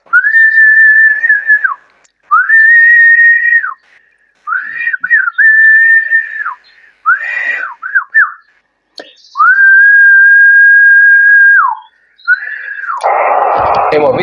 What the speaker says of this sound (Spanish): Ahora vemos lo del silbido.